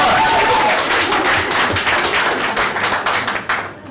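Audience clapping at a school board meeting: a dense, steady burst of hand claps from a seated crowd, loud at first and easing off slightly toward the end, with no talking over it.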